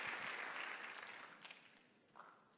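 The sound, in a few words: audience applause for panel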